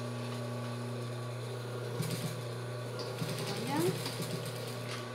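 A sewing machine backstitches a fabric strip for a child's shorts. It gives a steady mechanical hum with short bursts of stitching and a rising whir, while someone talks briefly over it.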